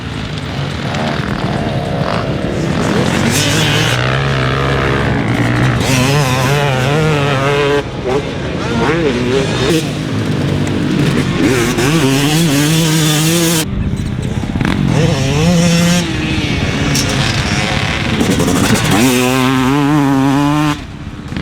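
A 2020 Yamaha YZ250X two-stroke dirt bike rides off-road, its engine revving up and down loudly through gear changes, the pitch rising and falling repeatedly and near throughout.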